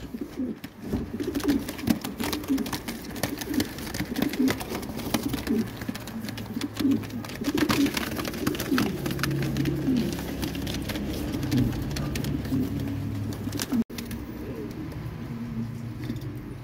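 Pigeons cooing among a collection of birds, repeated soft low coos in a steady rhythm over a continuous background of other birds and ambient noise, with a brief sharp click near the end.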